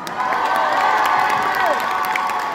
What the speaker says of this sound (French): On applaudit Elsa.